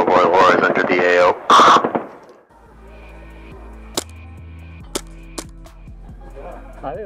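Three sharp, isolated gunshots ring out a second or so apart in a video game, following a stretch of talking and set over a faint ambient game drone.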